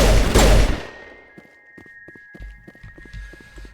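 A loud burst of rapid gunfire in Mass Effect 1 Legendary Edition dies away quickly, followed by scattered footsteps and small impacts under a faint electronic tone.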